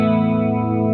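Electric guitar played through a first-generation Japanese-made chorus pedal, a sustained chord shimmering with steady chorus modulation, loud and close with no talk.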